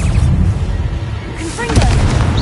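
Bombarda spell explosion in Hogwarts Legacy, a loud booming blast layered over combat noise, followed by bright whooshing and chiming magical effects.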